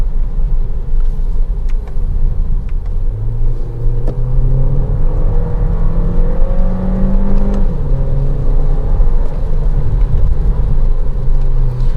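A Volkswagen T-Roc R-Line 1.5 TSI 150 petrol engine hums and rises in pitch as it revs while driving, with steady road rumble underneath throughout.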